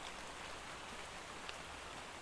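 Constant rain pours in the video game ARK on the Crystal Isles map, caused by a weather bug; a faint, unbroken hiss of rainfall runs without pause or voices.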